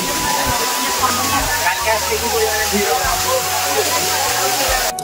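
Sahasradhara waterfall at Sitakunda, a steady broadband roar of falling water that runs unbroken throughout, with a person speaking over it.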